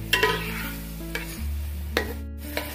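Slit green chillies being stirred into an Andhra-style fish curry in a pan, with a few sharp spoon scrapes over a steady low simmering hiss, close by and moderately loud.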